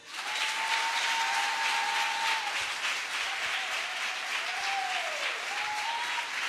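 A church congregation claps steadily at a Sunday worship service, dense, sustained applause filling the whole stretch with a faint held tone running beneath it.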